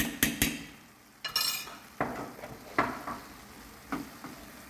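A utensil mixes crushed garlic and salt in a bowl, with a few sharp clinks and scraping strokes separated by quiet pauses, close and fairly soft.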